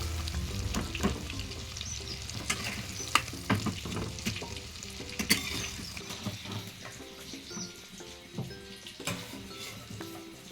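Prawns sizzle and crackle in plenty of hot oil in a home kitchen, with occasional stirring clinks and pops, the frying settling to a quieter steady hiss.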